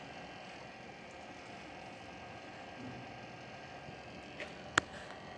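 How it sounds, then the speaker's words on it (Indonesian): The cooling fan of a power supply charging a car battery runs with a low, steady whirring hum, quiet and unchanging, broken only by a brief sharp click near the end. "setelah kita tancapkan di sana, kipas akan menyala"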